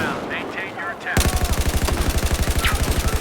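Automatic gunfire from the video game Battlefield 4 bursts in abruptly after a quieter opening, firing in a fast, steady rhythm of loud, close shots that continue to the end.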